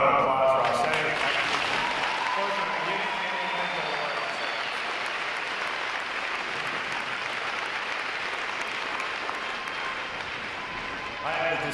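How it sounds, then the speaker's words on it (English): Sustained applause from a large audience at a U.S. Navy recruit training graduation ceremony honoring new sailors, a dense steady clapping wash that holds for most of the stretch before easing off. "how about another round of applause for our sailors?"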